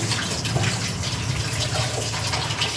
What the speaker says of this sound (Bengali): তার আগে চিকেনটা ভালো করে ধুয়ে নিই। চিকেন ধুয়ে